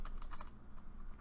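Fast, light keystrokes clatter on a computer keyboard, a short burst of quiet, close typing.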